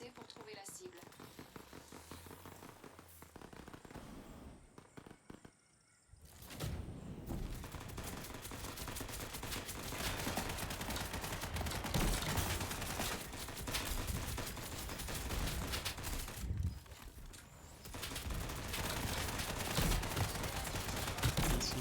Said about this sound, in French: Ils m'attaquent tous au pistolet de base.